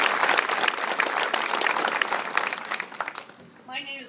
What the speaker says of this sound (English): Let's give them another quick round of applause.